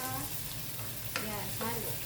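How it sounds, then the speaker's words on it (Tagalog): Cucumber sautéing in butter in a pan sizzles steadily while being stirred, with a couple of scraping strokes of the utensil standing out over the constant frying hiss. "Haluin natin siya."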